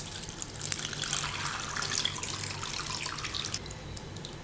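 Raw white rice, 400 grams, is washed by hand in water: a continuous splashing, trickling slosh, close but moderately quiet, with scattered drips and swishes and no talking.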